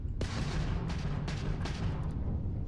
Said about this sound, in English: I know about firing the ballistic cannons